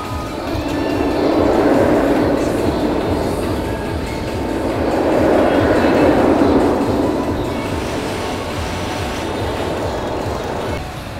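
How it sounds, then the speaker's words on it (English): An old Arrow mine train roller coaster, the River King Mine Train, rumbles and clatters along the track, swelling louder twice as it passes, with a steady rolling roar throughout. "Coaster 258 was the River King Mine Train, an old Aero mine train."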